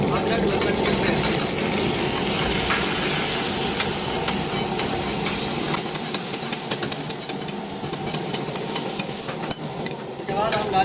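Ginger-garlic paste fries and sizzles in oil in a karahi pan for chicken karahi, a steady loud hiss with stirring scrapes and clinks, close up, with a faint hum behind it.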